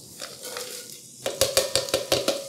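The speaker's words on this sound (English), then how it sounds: "we're going to saute our onions" Onions sautéing in a little oil in a pan for beef pepper steak, a soft sizzle under a series of sharp, regular spoon-against-pan stirring clicks up close, with no talking.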